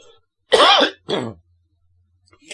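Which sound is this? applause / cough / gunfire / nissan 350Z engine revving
cough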